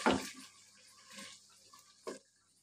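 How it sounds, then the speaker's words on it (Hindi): Water poured into a pan of fried potatoes, onion and tomato while cooking an aloo-baingan dish, giving a sharp, close sizzling splash at the start and a second brief hiss near the end, with quiet kitchen noise between. "अब हम इसमें थोड़ा सा पानी ऐड करेंगे"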